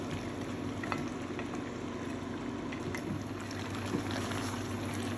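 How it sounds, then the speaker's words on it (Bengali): Fresh bottle gourd goes into a pan of prawn masala, giving a soft, steady low sizzle and bubbling, faint and continuous, with no talking. "এই তো এখন আমি ফ্রেশ লাউ এখানে দিয়ে দিচ্ছি।"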